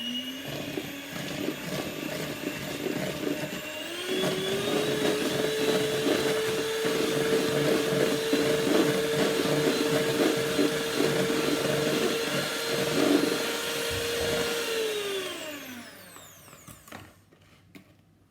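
An electric mixer whirs steadily for about eleven seconds as it beats cake batter with vinegar and bicarbonate of soda, a close, even motor whine that then winds down into near quiet.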